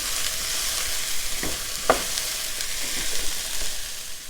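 Green peppers soften in a hot frying pan, giving a steady close hiss of sizzling oil with a couple of soft stirring scrapes and taps.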